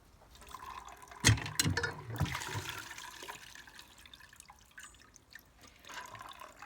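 Running water rinsing freshly lifted dahlia tubers, a splashy, uneven pour with bursts of spatter and dripping, fairly close and moderate in level, with no talking.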